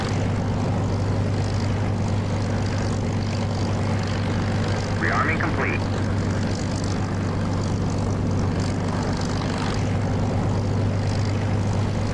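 Propeller warplane engine in the DCS flight simulator, a steady loud droning hum with strong low tones throughout as the aircraft readies for takeoff on a taxiway, with a brief higher chirp midway.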